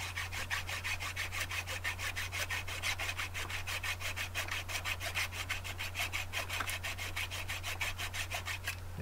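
Steady back-and-forth sawing as the end of a clock mainspring barrel arbor is trimmed off, close and even in rhythm, with a constant low hum underneath and no talk.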